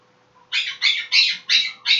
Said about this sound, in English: My bird that is making all that ruckus right now, that is Remy.